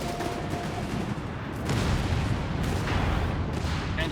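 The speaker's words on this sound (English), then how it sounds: "We got our strafing run inbound, clearing out the 600 through there." Strafing-run gunfire in the World War II strategy game Company of Heroes 3, a dense continuous clatter of machine-gun fire and distant booms that grows louder partway through, with no talk.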